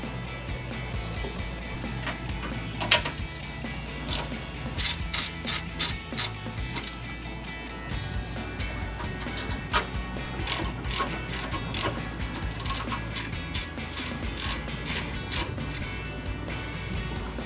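A ratchet with a 15mm socket clicks repeatedly while taking off the sway bar nuts on a 2005-2010 Mustang GT, with quick runs of sharp pawl ticks in bursts against a low background, close up.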